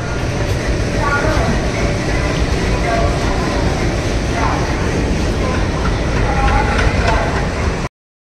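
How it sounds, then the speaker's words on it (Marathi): Busy railway station at night with a train present, a steady dense rumble of rolling stock and engine noise under crowd murmur and voices throughout, close and continuous. "घरापासून ऑटो रिक्षा पकडून आम्ही रेल्वे स्टेशनला पोहोचलो"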